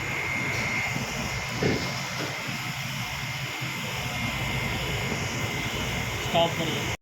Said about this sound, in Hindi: तलाजा अभी चालू है और ये इसमें गैस चार्ज हो रही है